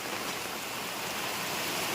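Dense, steady rain at night hisses evenly and continuously, a constant close wash of sound with no voices.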